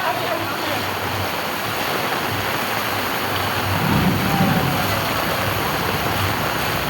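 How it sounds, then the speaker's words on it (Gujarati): Floodwater rushes through a street in Matawadi, Surat, during heavy rain, a loud, continuous roaring wash with a brief surge near the end and no voices. "તમે જોવો વિડીયાની અંદર આ શેરીમાં પાણી હાલ્યું જાય છે"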